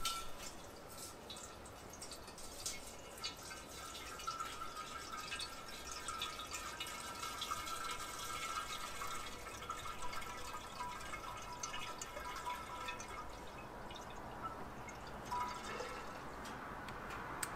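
Apple juice for a first batch of homemade cider pours into a big glass carboy: a faint, steady trickle with scattered drips, quiet and close, with no talking.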